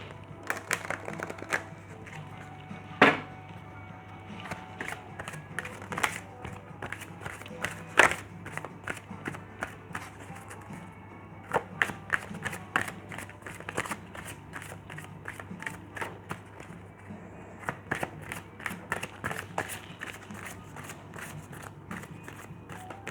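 Angel Oracle cards riffle and snap in repeated bursts of shuffling, a steady low hum beneath the crisp, irregular taps and flicks.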